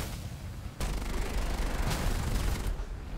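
Sustained rapid machine-gun fire from a jet fighter in a combat video game, flown in a Gripen, bursts in suddenly and rattles on loud and dense without a break after a short quieter lead-in.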